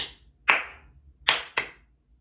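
Bare hands clap out a short rhythm, three sharp, close claps with an uneven spacing, the last two following in quicker succession, each ringing briefly in a quiet room.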